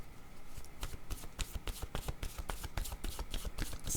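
Tarot cards being shuffled by hand, a dense run of crisp riffling slaps and flicks repeating steadily throughout, close and fairly loud with no talking.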